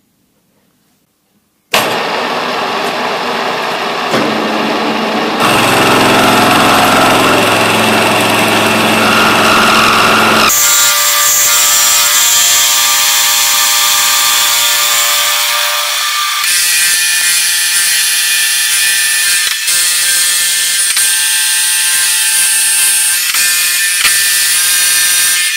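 A milling machine with a motorised rotary table cuts metal in 3 mm passes. After about two seconds of near-silence comes a loud, continuous grinding whine whose pitch and texture shift in several stages.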